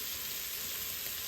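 Yellow toor dal ingredients sauté in a pan with a faint, steady, high sizzling hiss that lasts a brief moment, heard alone without voices.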